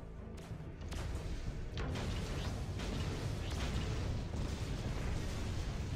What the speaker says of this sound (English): Damn, that's a lot of mortars.